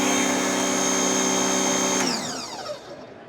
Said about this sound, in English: When we run this, you're gonna see the jetter's pulling itself essentially